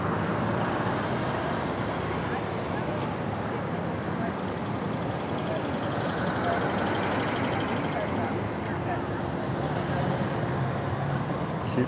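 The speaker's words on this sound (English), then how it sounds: "Wow, a lot of traffic today." Steady roadway noise on a busy downtown street in Missoula, Montana, with cars and larger vehicles passing at moderate distance, forming a continuous wash of tire and engine sound heard from a walking pedestrian's position.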